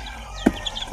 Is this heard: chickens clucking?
yes